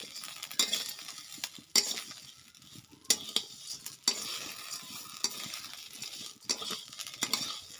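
Vermicelli (semai) frying in a pan and being stirred, browning as it toasts: steady soft sizzle with repeated scraping strokes of the spoon, louder clinks against the pan every second or so, close and without talk.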